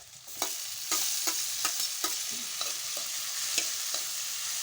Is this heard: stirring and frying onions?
yes